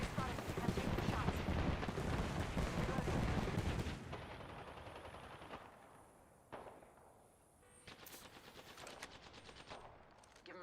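Rapid bursts of video game gunfire crackle densely for the first few seconds, then thin out into scattered shots and softer effects under intermittent speech.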